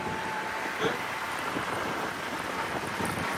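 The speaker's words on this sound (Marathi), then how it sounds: "पाऊस पडतोय" Rain falls steadily in a soft, constant wash, with occasional faint drips and a low rumble beneath.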